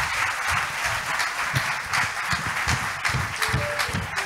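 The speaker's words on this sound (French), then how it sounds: "Est-ce que vous pouvez les acclamer très fort" A crowd applauds and cheers quarter-final singing candidates at The Voices of Praise competition, with sustained dense clapping and rhythmic claps throughout, loud and close.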